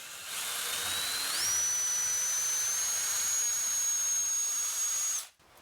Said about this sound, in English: And then you just slot it in your hole and drill away.